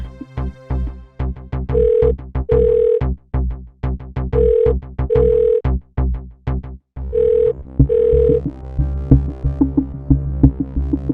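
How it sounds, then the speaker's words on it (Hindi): A telephone rings repeatedly with no answer in a Savdhaan India crime drama episode, in evenly spaced paired tones over a heavy, pulsing dramatic music bed. The ringing is loud and close, with no voices. "अब तो अभय भी फोन नहीं उठा रहा।"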